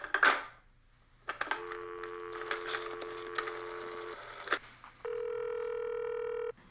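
Telephone being dialed to reach the police department: a quick rattle, a run of clicking dial pulses, then a steady phone tone, close and without talking.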